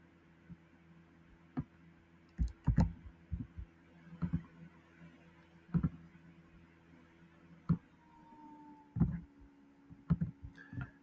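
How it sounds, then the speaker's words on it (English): A computer mouse clicks while someone works in SAP Cloud software: about a dozen sharp, quiet clicks at irregular intervals, some in quick pairs, over a faint steady electrical hum. "So for that, I just have to click on create."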